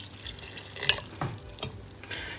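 Half a cup of water poured into cooking masala for fried beef liver, giving a few short splashing, sizzling bursts and light clinks at moderate loudness, with no talk.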